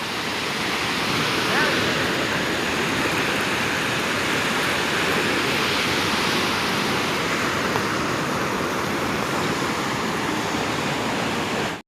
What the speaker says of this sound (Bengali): এই একটা ছোট্ট ঝর্ণা